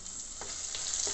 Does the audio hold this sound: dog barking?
no